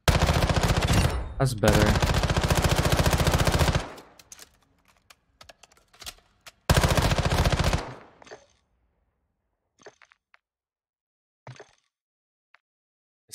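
Two long bursts of rapid automatic gunfire in a multiplayer shooter game, the first running about three seconds and the second shorter, with scattered clicks and a brief spoken remark between and after them.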